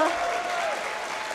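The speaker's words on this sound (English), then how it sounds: "Come on, guys, don't cheer too loud." A convention panel audience at PAX West 2018 applauding and cheering, a dense wash of clapping that stays fairly even and close for a short burst.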